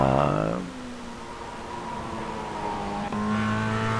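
A race car engine at Brands Hatch in a racing video game revs high and drops as it shifts, then settles into a steady drone, closing with a sharp gear change and rising pitch.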